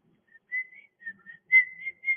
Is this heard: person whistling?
yes